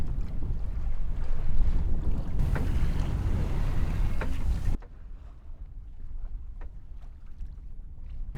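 A small boat moves across open ocean waves with heavy wind buffeting the microphone. A dense, roaring wash of water and wind cuts abruptly to a quieter stretch with occasional splashes and knocks.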